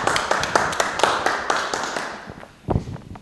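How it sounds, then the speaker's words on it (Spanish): Applause for Ernesto Lecuona at a bohemia music gathering, a spatter of claps with distinct sharp hits that gradually fade, then a final burst of louder taps near the end. "¡Fuerte el aplauso!"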